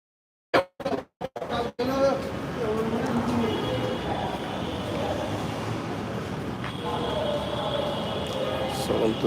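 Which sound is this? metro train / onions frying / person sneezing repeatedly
metro train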